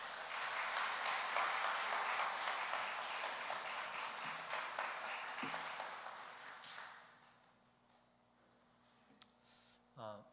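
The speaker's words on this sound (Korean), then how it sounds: "우리 큰 하나님께 영광 그리고 환영의 박수로 목사님을 맞도록 하겠습니다" Church congregation applauding to welcome a pastor at an installation service, a dense round of clapping that fills the room for several seconds then fades away, leaving a quiet hall with faint small noises.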